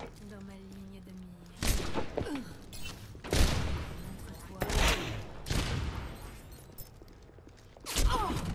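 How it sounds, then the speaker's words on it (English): Repeated gunfire in the Overwatch shooter game, several sharp broadband shots spaced a second or so apart, loud and close in the player's perspective, with game noise in between. "I'm shooting like 2 bullets per shot."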